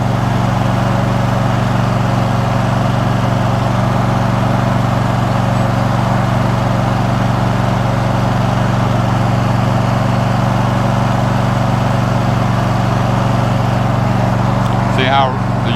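Riding lawn mower engine runs steadily and loudly the whole time as it is driven along, a constant droning hum close to the microphone with no breaks.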